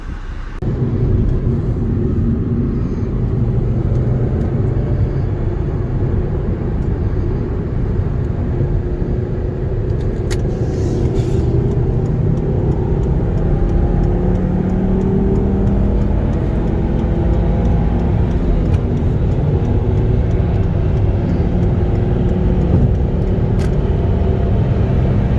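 A 2011 Volvo C30 R-Design with a manual gearbox accelerating on the road, a steady low engine drone and rumble rising through the gears over about twenty-five seconds, heard from inside the cabin.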